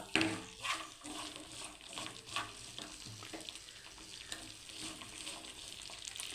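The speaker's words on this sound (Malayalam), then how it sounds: "ഒന്ന് വാടുന്ന വരെ ഒന്ന് ഇളക്കി കൊടുക്കുക" Kanthari chillies for pickle are stirred in a pan until wilted, with a soft, low sizzle and intermittent spatula scrapes, fairly quiet and close.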